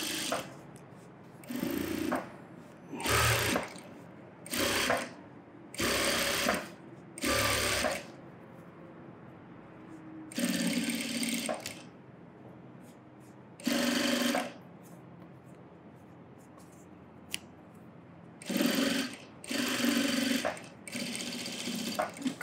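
Sewing machine stitching an edge seam on fabric, close and steady, running in roughly eight short bursts separated by pauses, with faint background sounds between runs.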